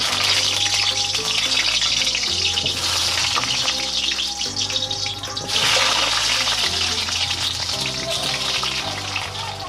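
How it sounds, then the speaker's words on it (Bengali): Potatoes sizzle in hot mustard oil in a wok, a steady bright crackle and hiss running throughout, partly under background music. "কড়াইতে সর্ষের তেল গরম করে নিয়েছি। এবার আলুগুলো ভেজে নেব।"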